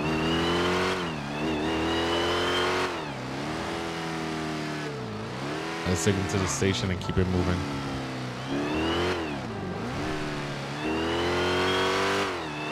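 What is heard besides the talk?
Dodge Durango engine revving in GTA 5 (video game)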